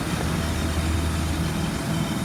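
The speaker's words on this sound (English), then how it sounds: "I can hear air leaking from underneath the bus." Air leaks from underneath a 2004 Blue Bird All American 72-passenger school bus as a steady, close, broadband hiss blended with a low rumble, continuous and unchanging throughout.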